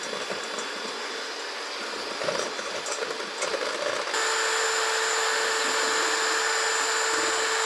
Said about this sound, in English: So I'm going to beat this until it forms a stiff peak.